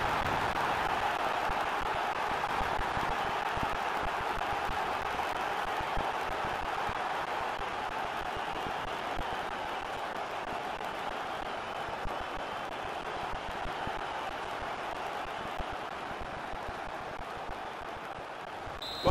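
Stadium crowd in the FIFA 16 football video game, a steady broad murmur of many voices holding at an even level throughout, fairly loud and continuous without distinct cheers or claps.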